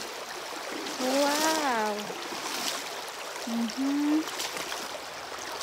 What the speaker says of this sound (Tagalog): Nandito tayo sa gitna ng ilog. Oh, laki ng ilog dito.